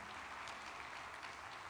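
A church congregation applauds for Jesus in a worship arena, a faint, distant, continuous wash of clapping with a few sharper claps standing out.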